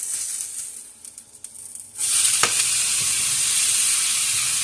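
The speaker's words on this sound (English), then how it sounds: "Alright, this is cooking up nicely." A burger hits a hot frying pan and erupts into loud, steady sizzling after a quieter start with faint clicks, the crackling hiss continuing close and unbroken to the end.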